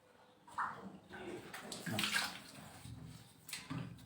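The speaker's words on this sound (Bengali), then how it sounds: "এখন আরেকটু ভালো মতো যদি আমরা এটাকে ধুয়ে নিই তাহলে পুরোপুরি ক্লিয়ার হয়ে যাবে" Water splashing as block-printed fabric is washed and rubbed by hand, soft close sloshes and splashes in irregular bursts, fairly quiet and alone.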